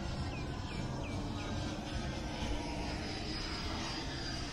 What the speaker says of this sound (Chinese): 哇，声音蛮好听的，非常非常的安静，有喷射音效